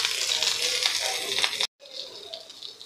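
Coriander and spinach leaves with onion, garlic, ginger, chili and mint sautéing in a pan, a close hissing sizzle with stirring scrapes, briefly cut to silence before the frying resumes a little softer.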